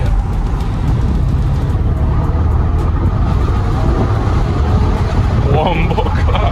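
A Porsche Panamera 4S accelerates hard, a deep, loud engine roar heard from inside the cabin, continuous throughout with people talking over it.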